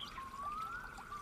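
Cold water trickles and pours around sore feet in an East German children's radio play, a steady, close, continuous watery flow with a faint thin whistle running through it and no voices.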